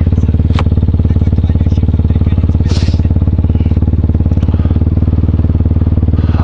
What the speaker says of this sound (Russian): Макс, Корешок, я тут сейчас на Толкачевском мотоцикле катаюсь.